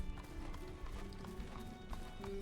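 Cavalry horses gallop across a meadow in the Master of Command battle game, a faint distant patter of hooves in uneven rhythm beneath a low ambient hum.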